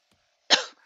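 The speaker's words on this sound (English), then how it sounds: "It's just a dry cough." A single short, dry cough from a character in Survive Skull Island, abrupt and fairly loud, rising sharply and trailing off within half a second against near silence.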